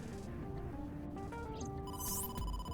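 A phone rings in the video game AI: The Somnium Files, with a tonal chime entering midway and growing brighter toward the end, set over a steady bed of game background music.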